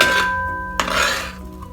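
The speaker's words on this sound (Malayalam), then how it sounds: "ഈ നെയ്യ് ചേർത്ത് ഒന്ന് വഴറ്റിയെടുക്കാം" A ladle clanks and scrapes against a metal uruli while elephant foot yam is stirred in ghee for payasam, with one sharp knock midway and a ringing metallic tone, close and clear.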